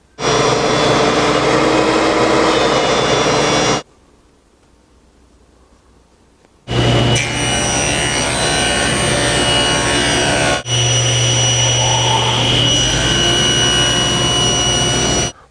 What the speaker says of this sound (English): I want to plane this down until it's the same height as this bit.